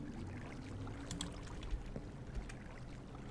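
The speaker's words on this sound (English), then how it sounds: "Let's see how the water flows first." Flowing water in Minecraft, a faint, steady pouring trickle with small splashy accents, heard quietly and alone.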